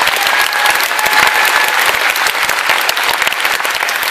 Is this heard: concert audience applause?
yes